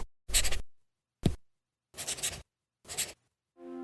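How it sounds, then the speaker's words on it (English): Four short bursts of scratchy stylus-on-tablet writing on a reMarkable Paper Pro, close and crisp, separated by silences, followed by a faint hum at the end. "That's not paper. It's the sound of the new Remarkable Paper Pro"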